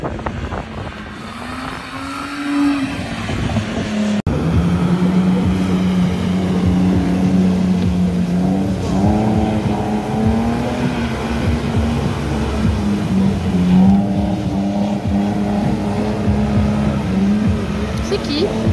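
A stunt car drifts under sustained throttle at a stunt-driving course, its engine holding a loud, wavering drone that rises and dips in pitch, with voices talking over it.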